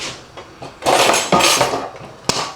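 A metal pot holding cold water is stirred and set down on a stove, giving close clanks and scraping knocks that build into a busy clatter, then a single sharp knock near the end.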